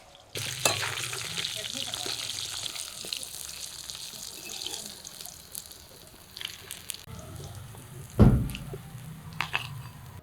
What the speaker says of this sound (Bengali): বাকি পিসগুলো এবার ভাজবো